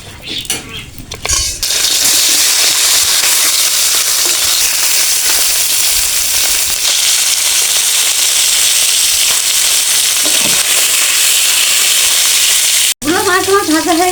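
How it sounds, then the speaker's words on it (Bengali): Tilapia fish frying in hot oil in a wok, a loud, continuous close-up sizzle that fills the clip after a short clattery start, ending with a brief scrape. "মাছ ভাজার জন্য কড়াইটা তুলে দেবো"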